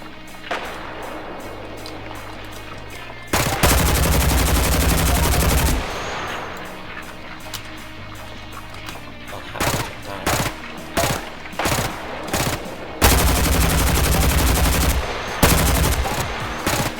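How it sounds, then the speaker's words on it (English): Enemy gunfire in the HELLMET video game, with loud sustained bursts of automatic fire alternating with rapid separate shots over a low droning background. "They don't stop shooting, I hate it."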